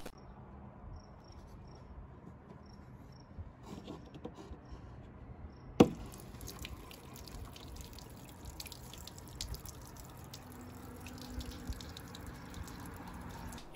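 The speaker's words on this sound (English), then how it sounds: "If we want to drain the water out of this thing" Water drains from a rustic wooden beer cooler through a side flap, a sparse dripping and trickling under a steady chorus of crickets, with one sharp knock partway through.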